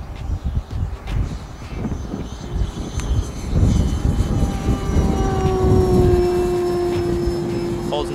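An Avios Zazzy 1300mm RC sports plane flies a knife edge pass, its electric motor and propeller whine rising in pitch and loudness as it approaches, then holding a steady tone as it passes.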